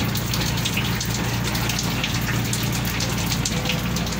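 Rain falling steadily at a fishing spot in Zamboanga City, a dense continuous patter and hiss on surfaces nearby, even in loudness throughout with no voices.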